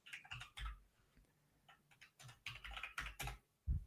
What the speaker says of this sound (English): My very quiet keyboard.